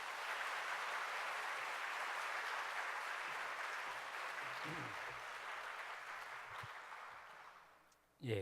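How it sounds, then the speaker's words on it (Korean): Sustained audience applause fills a church hall at an evening Revelation revival meeting, a dense, even wash of clapping that gradually thins near the end, with faint voices underneath. "크게 박수로 모시겠습니다"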